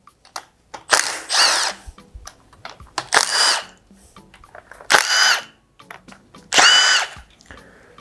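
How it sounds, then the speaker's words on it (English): Power tool spinning out bolts on a 392 Hemi engine during a camshaft and phaser lock kit install: four loud, whirring bursts about a second long each, close up, separated by small clicks and handling noises. "And take all your bolts out."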